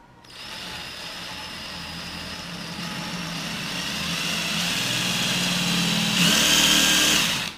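A power drill whirs steadily and close as it bores into shower tile, its motor pitch rising slightly as it works, then straining louder for a moment near the end.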